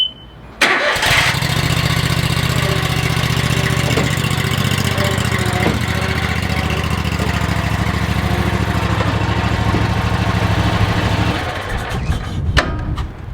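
A lawn mower engine starts and then runs at a steady, loud, constant drone for about ten seconds, up close and with no talking, before it cuts off.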